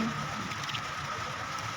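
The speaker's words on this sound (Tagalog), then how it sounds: "Ulan na naman." Steady rain falls in rural Leyte province, a dense continuous hiss of drops on surfaces, close and even for the full stretch with no voices.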